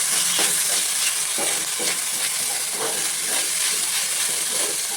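Boiled koorka (Chinese potato) stir-frying in a pan with onion and curry leaves, a steady loud sizzle with scraping stir strokes recurring throughout.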